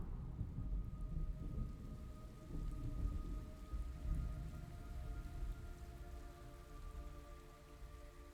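Steady rain pours down with a soft hiss in the video game Metal Gear Solid Delta: Snake Eater, low thunder rumbling underneath and a faint sustained tone in the background.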